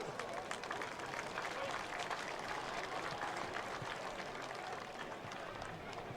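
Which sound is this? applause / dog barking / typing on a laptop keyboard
applause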